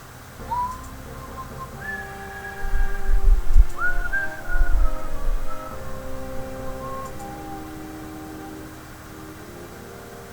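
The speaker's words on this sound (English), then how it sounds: "There's that whistling that Red Wolf says he's so jealous of." A person whistles a slow, wandering melody of drawn-out notes in a Final Fantasy VI playthrough, fairly clear over a low background hum with soft thumps partway through.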